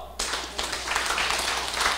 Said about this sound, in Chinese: 这是要给大家家己鼓掌一下